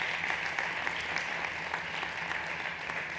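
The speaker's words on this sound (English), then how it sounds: "So big applause for all of you" Audience applause at a startup pitch stage event, a steady continuous patter of many hands clapping at moderate loudness from a slight distance.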